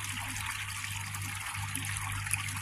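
A small waterfall feeding a garden koi pond trickles and splashes steadily and close, with a low constant hum of a pump underneath.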